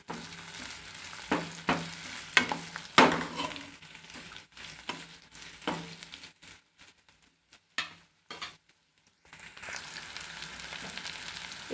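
Onions and green chillies sauté in a pan, an ongoing hiss and sizzle broken by scraping stirs and clattering taps, fading briefly before the frying swells again.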